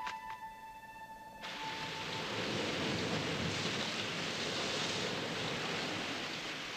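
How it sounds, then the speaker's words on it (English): Heavy rain comes in after a brief ringing tone and then pours steadily, a loud, dense, continuous hiss that fills the rest of the stretch without voices. "And still it rained."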